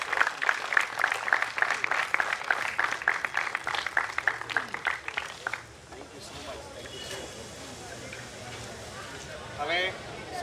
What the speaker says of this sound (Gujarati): એમને વિનંતી કરીશ એકવાર જોરદાર તાળીઓથી વધાવી લઈએ.